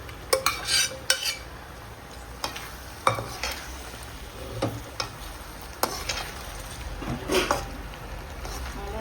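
Country chicken sautéing in a hot pan, with a steady close sizzle and repeated sharp scrapes and clinks of a spoon stirring against the metal throughout.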